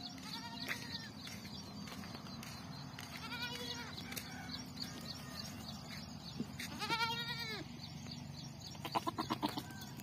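Sheep in a pen bleat several times at moderate distance, wavering calls spaced out over a low steady background hum.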